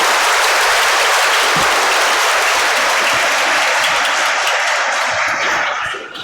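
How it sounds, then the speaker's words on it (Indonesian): Sustained applause from a Christmas celebration audience for the children who sang, a thick, even wash of many hands clapping that holds steady for several seconds before tapering off at the end. "Tepuk tangan untuk semua"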